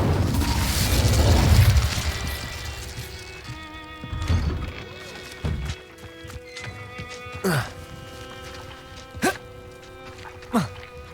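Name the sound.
Incendio fire spell cast in a video game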